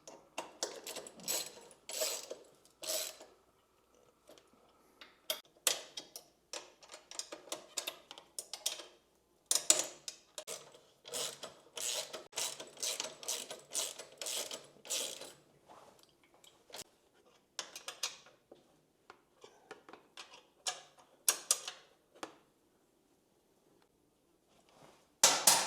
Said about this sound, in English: Now we can go ahead and gradually tighten all the bolts and nuts.